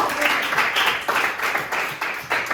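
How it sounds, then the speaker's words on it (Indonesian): A classroom group claps for the first presenting group, a steady dense patter of many hands that swells in rhythmic bursts roughly every half second, close and fairly loud, with no clear talk over it. "Beri tepuk tangan buat kelompok 1."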